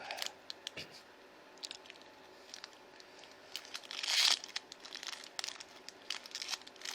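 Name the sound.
tearing open a Yu-Gi-Oh card pack wrapper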